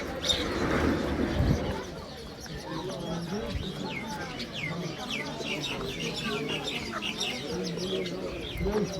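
Birds chirp, tweet and coo continuously inside a bird shop in Old Town, Kabul, with caged finches and doves among them. The calls are layered over a busy background, and a louder burst of noise comes early on.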